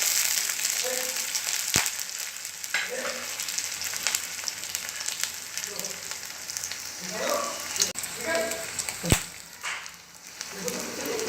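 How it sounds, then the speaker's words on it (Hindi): Onions sizzle steadily in a pan as they fry toward golden brown for a green lobia sabzi, with crackles and pops throughout and someone speaking softly in the background. "ये मैं प्याज जैसे इसको गोल्डन ब्राउन कर लूँगी।"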